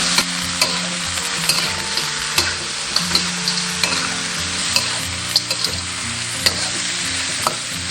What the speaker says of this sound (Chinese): 加入羊肉，把羊肉的这些水分炒干